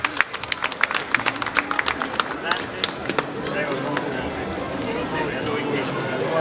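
A crowd claps for historical groups at a parade in Tolentino, quick scattered applause loudest at the start and thinning out, with a speaker's voice over a busy outdoor crowd.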